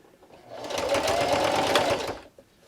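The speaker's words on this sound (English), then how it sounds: "So now I'm just going to sew directly on the line with that same straight stitch." Sewing machine running a straight stitch with a backstitch along a drawn line on a small headphone pouch, one close, steady burst of rapid needle chatter lasting under two seconds.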